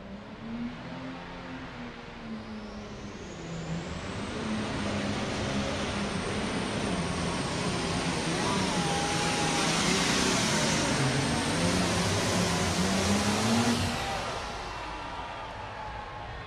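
A diesel super stock tractor roars through a pull at an indoor tractor pulling event in Louisville, a sustained loud engine howl that builds and holds for several seconds before dropping off, with crowd noise beneath.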